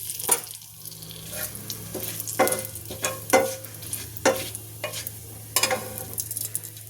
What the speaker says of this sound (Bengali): তো আগে একটু জিরে ফোড়ন দিয়ে দিই, আর দুটো তেজপাতা ফোড়ন দিয়ে দিলাম।